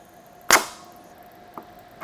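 A stud welding gun fires once, welding an extraction stud onto the head of a rivet: one sharp, loud, close snap with a short tail, followed by a faint click.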